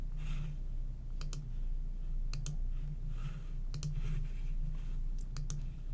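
Sharp mouse clicks from a computer, saving HTML5 and CSS3 validation badge images; a few pairs of quick clicks spaced over a low steady hum, fairly faint and close, with no talking.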